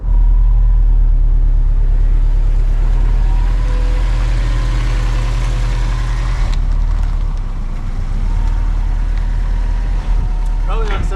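A high-mileage Subaru STI with 200,000 miles rumbles loudly and steadily while pulling a twin-turbo Nissan 300ZX off a trailer. The deep engine drone holds close and continuous, shifting tone partway through.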